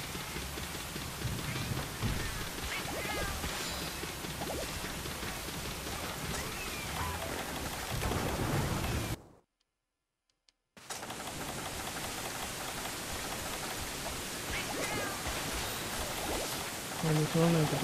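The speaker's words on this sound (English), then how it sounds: "because he keeps making it rain" Rain falling in the video game Monster Hunter Frontier Z, a steady dense hiss of rainfall that drops out for about a second midway, with a voice talking over it.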